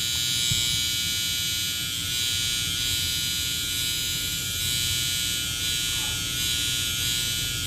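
Electric hair clippers buzz steadily and up close as they line up a hairline during a haircut, a continuous high-pitched whine with no pauses and no talking.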